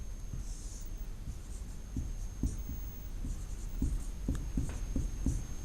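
Chalk or pen strokes from a teacher writing during a ninth-grade science class come as a series of soft, irregular taps and scrapes over a quiet room hum, close and faint.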